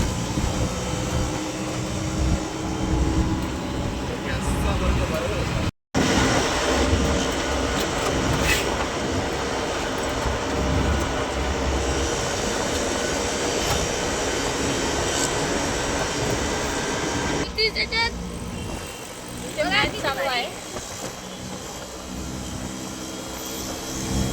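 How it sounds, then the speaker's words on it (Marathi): Riding in an auto rickshaw, a steady droning engine rumble with road noise runs throughout, briefly cutting out once, with a few rattles and shifts in tone along the way. "आता आपण चाललोय रिक्षामध्ये"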